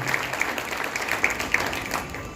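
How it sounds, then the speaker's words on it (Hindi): An audience at a public event claps to welcome the police department staff, a brisk, fairly close patter of many hands with a few louder individual claps standing out. "आप तालियों से उनका स्वागत करिए, हमारे अधीनस्थ कर्मचारियों का"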